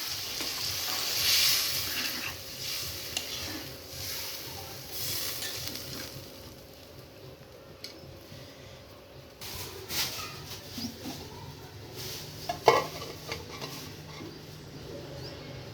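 Pigeon meat cooks in a pan after water is added, giving a continuous hissing sizzle with occasional stirring scrapes and clinks, close and fairly quiet, with no talking.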